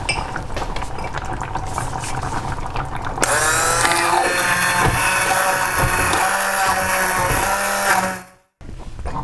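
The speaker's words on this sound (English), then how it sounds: "I'm going to go ahead and use my stick blender and blend this all up just until everything is well blended" A stick blender whirring through a pot of potato leek soup, its motor buzzing loud and close with churning, sloshing liquid, pitch shifting as it moves, before it abruptly stops.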